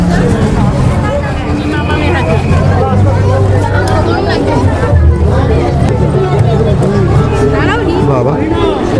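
Dense crowd hubbub fills a Jagadhatri Puja pandal in Chandannagar, with steady overlapping chatter and babble throughout, loud and close, under a continuous festive din.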